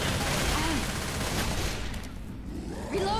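Rapid bursts of video game gunfire crackle through a team match in a custom campaign tournament, dense and continuous like a shooting range, with a brief lull before the shots pick up again.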